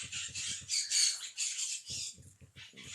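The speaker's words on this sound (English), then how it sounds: "You hear all the birds." Birds squawk and call repeatedly nearby, harsh bursts coming in quick clusters with little pause between them.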